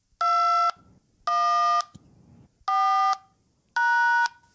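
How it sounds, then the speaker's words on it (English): A phone plays tones from an online tone generator into a call system: four identical electronic beeps, each about half a second long, spaced evenly with short quiet gaps, loud and buzzy. "I think it was Online Tone Generator, which I pulled up on my phone, and I played it into the system from my phone."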